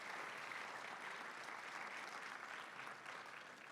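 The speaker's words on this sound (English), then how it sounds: "Let's give him another round of applause." An audience at a Martin Luther King Jr. celebration program claps in sustained, dense applause, fairly faint and even throughout with no voices standing out.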